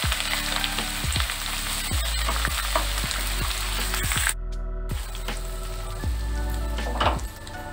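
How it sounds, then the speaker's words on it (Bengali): Ginger paste fries lightly in a hot pan for Basanti pulao, with a steady loud sizzle and a regular scraping of a spoon stirring it. The sizzle briefly drops out midway before resuming. "আদা বাটা, আদাটা হালকা করে ভেজে নেবেন যেন পুড়ে না যায়।"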